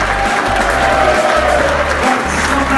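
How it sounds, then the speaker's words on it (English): A standing conference audience claps and cheers, a loud, dense, continuous wash of applause and crowd noise from start to finish. "Keep clapping and cheer."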